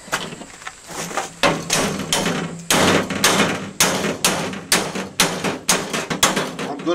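A hammer strikes a metal water tank strap clamped in a vice to bend it, about a dozen sharp, ringing blows landing at a fairly regular pace, loud and close.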